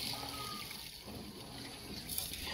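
Water poured into a rotary coin tumbler barrel packed with a large load of coins, a steady soft splashing rush that continues evenly through the moment, quiet and close, with no voices.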